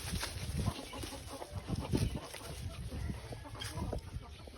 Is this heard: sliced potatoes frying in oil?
no